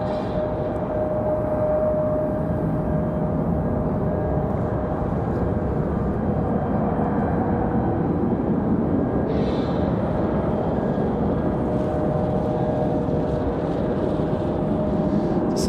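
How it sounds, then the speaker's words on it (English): Republic Airways E175 jet departing Raleigh-Durham for a short flight to DCA, heard as a steady, loud broadband engine roar that holds constant throughout, with no voices over it. "This is Republic Airways 4616. Headed off to DCA"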